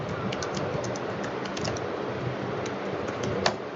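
Keys clatter on a computer keyboard in a quick, uneven stream of light taps close by, with a slightly louder keystroke near the end and no talking.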